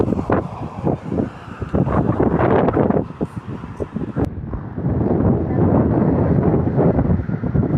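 Strong wind at Manila Bay buffets the microphone in heavy gusts, roaring and rumbling, with a brief pause before it picks up steadily again.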